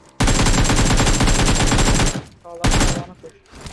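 Automatic gunfire in PUBG Mobile rattles in a long rapid burst, breaks off, then comes back in a shorter burst, loud and close.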